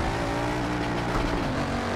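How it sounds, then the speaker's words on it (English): Car engine in Forza Motorsport 7, played on a Logitech G920 wheel, roars steadily under hard acceleration with a dense rumble, possible exhaust crackle not clearly separable, loud and continuous throughout. "I can just hear the exhaust crackling."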